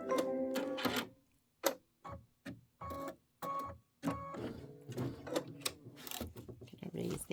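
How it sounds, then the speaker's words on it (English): Embroidery sewing machine stitching out a quilt block: a run of rhythmic mechanical bursts with short pauses, the needle motor whirring and clicking up close, steady and moderately loud with no talk over it. "This is a 74-minute stitch out, so we've got a ways to go."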